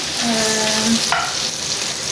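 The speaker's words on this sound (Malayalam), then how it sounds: "പിന്നെ സവോളയും വെളുത്തുള്ളിയും കൂടെ ഇതിനകത്തിട്ട് വഴറ്റിക്കൊണ്ടിരിക്കുകയാണ്" Chopped onion and garlic sautéing in hot oil in a pan, a steady close sizzle with a brief clink of a spoon stirring partway through.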